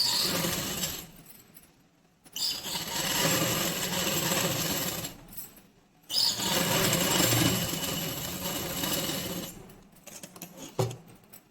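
A sewing machine runs in long steady bursts while stitching around the collar of a girl's night dress, with a short pause in the middle and a few faint clicks near the end.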